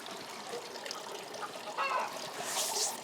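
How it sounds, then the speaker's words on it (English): Water trickles and dribbles softly in a small garden fountain outdoors, a faint continuous splashing with a few brighter chirps from birds near the end. "So right here is my little fountain"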